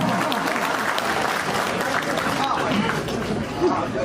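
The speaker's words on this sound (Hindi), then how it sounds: "इनके बाद जोरदार तालियां हो" Loud applause from a crowd at a government event in Seraikela, India, attended by the chief minister, a steady wash of clapping with crowd murmur throughout.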